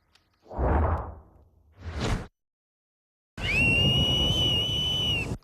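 Two whooshing breaths, then a loud, sustained shrill warning whistle blast held steadily for about two seconds, close by, in New York City.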